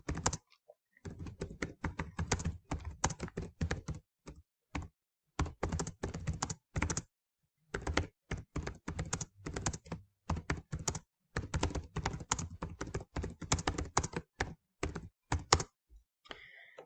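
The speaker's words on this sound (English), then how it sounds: "I'll just type some additional information so we can see." Someone types on a computer keyboard in short bursts of quick key clicks separated by brief pauses, close and clear in a quiet room.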